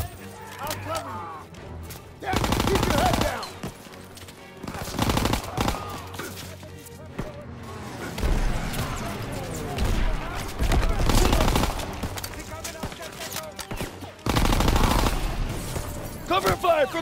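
Heavy bursts of covering gunfire in the Call of Duty WWII video game, with rapid automatic volleys alternating with quieter gaps, and voices calling out between shots.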